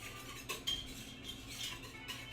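A whisk clinks lightly against a pan of melting butter for sauce, giving faint, irregular metallic taps over a quiet kitchen background.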